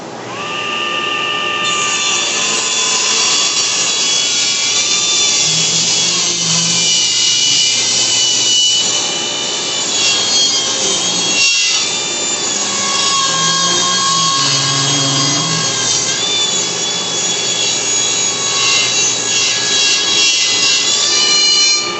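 A power saw cuts steadily through a wooden board to square its edge, a loud continuous whine with shifting harmonic tones lasting the whole stretch, close by and without talk.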